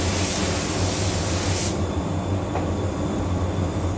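A paint spray gun laying a candy paint coat onto a car during a repair job, a loud, steady hiss of atomized spray that cuts off abruptly partway through and leaves quieter room noise.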